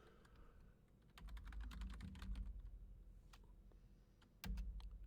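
A password is tapped out on a computer keyboard during a Pi-hole setup on Rocky Linux. The keystrokes are quiet and closely spaced, with a heavier thump near the end.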